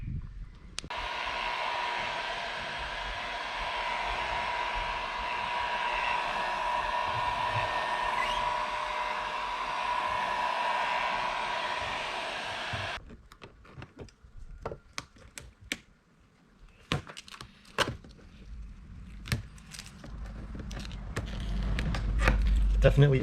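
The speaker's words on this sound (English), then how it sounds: "I got a professional heat gun here, but we're just gonna heat it." A professional heat gun blows a steady, loud hiss with a faint tonal whine while warming cracked paint protection film on a Mazda Miata RF ND2, running continuously for about thirteen seconds before cutting off, followed by scattered clicks and handling noises.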